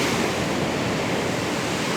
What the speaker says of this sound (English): the sound of the sea, this is real life